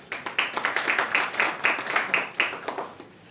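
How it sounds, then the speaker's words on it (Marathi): An audience at a women's literary convention bursts into applause, a lively burst of many hands clapping with an uneven rhythm that swells and then tapers off near the end. "आपण स्त्रियांसाठी एकदा जोरदार टाळ्या वाजवूया"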